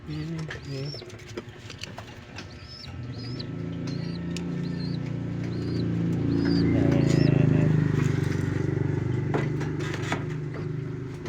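Pigeons coo in soft repeated calls nearby over a steady low background rumble, with occasional chirps and faint bird sounds.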